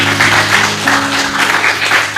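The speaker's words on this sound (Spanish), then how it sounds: "Dale un aplauso a Él." A church congregation claps together at a steady, fairly loud level, with a sustained tonal hum from music or an organ running underneath the clapping.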